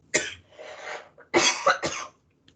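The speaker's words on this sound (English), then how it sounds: "I'm about to start coughing because that's how spicy it smells" A few harsh coughs in quick succession, close and fairly loud, provoked by spicy-smelling salsa ingredients, followed by silence.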